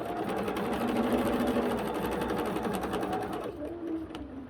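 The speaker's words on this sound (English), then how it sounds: "And then I'll just stitch all the way down." A sewing machine stitching quilt pieces runs steadily at close range with a fast, even mechanical whir, then slows and stops near the end.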